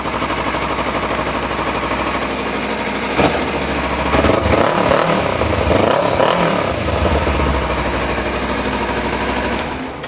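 A Kawasaki Ninja 300 with a quieter modified exhaust runs close by, idling with a rapid, chattering pulse and swelling briefly with a few throttle blips in the middle before settling back to idle.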